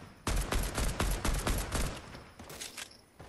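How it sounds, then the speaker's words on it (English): Rapid bursts of gunfire in the Fortnite video game crackle in a dense, loud volley of repeated shots for about a second and a half, followed by scattered quieter shots and a brief high whine. "Somebody else is shooting me."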